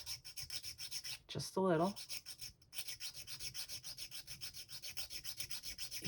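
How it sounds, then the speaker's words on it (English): The back of a small plastic miniature kit part is rubbed across sandpaper in quick, even strokes, a rhythmic close scratching that repeats steadily, with a brief spoken phrase near the start. "So I'm going to sand the back"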